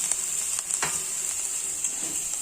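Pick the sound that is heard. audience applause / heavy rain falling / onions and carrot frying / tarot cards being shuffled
onions and carrot frying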